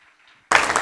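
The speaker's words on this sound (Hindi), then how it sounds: "रुपेश को तालियां पाड़ो यार" Sudden burst of applause for Rupesh, dense and close, breaking in after near silence and filling the second half of the moment.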